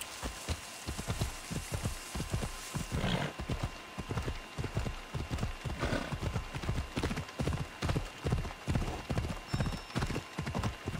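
Horse hooves clip-clop steadily in Assassin's Creed Odyssey, a fast, even rhythm of close hoof strikes that runs throughout over a soft, rain-like hiss.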